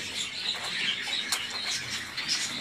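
Double-crested musk pigeon chicks in their nest give faint, repeated high chirps and cheeps amid light rustling and flapping, no voices.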